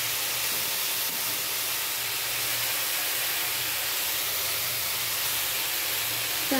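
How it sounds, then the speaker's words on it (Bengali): Vegetables frying in a pan with ginger paste, a steady loud broadband sizzle and hiss that holds unbroken for several seconds, close up with no voices. "একটু ভালো করে সবজিগুলোকে একটু ভেজে নিতে হবে, হালকা ফ্রাইড যাতে বলে।"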